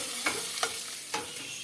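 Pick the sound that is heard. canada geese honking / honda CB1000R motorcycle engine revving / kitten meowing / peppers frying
peppers frying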